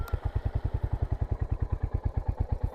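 A Royal Enfield Hunter 350 single-cylinder motorcycle idles close by, its engine thumping in a steady, even rhythm of low pulses throughout, loud and alone.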